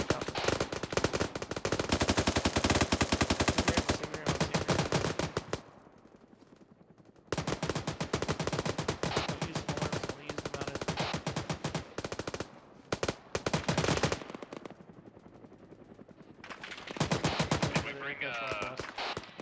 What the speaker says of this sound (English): I don't know if there's a lot of shots coming back.